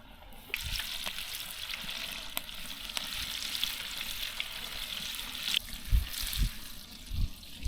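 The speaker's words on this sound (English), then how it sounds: "Get our oil hot and throw potatoes on there." Potatoes fry in hot oil beside walleye, a quiet, continuous sizzle with faint crackles and a few soft low knocks from the pan toward the end.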